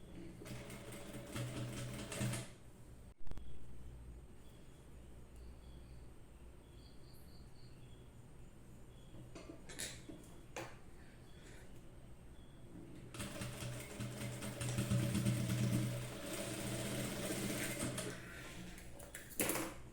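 A sewing machine stitches a neck design, running in steady bursts that start and stop, with louder stretches near the start and after the midpoint, under a faint high whine.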